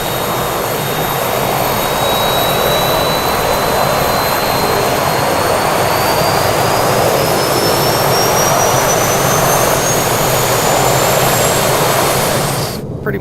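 Simulated twin engines of a King Air B200 idle after start in a flight simulator, a loud, steady roar with a faint rising whine throughout, cutting off right at the end.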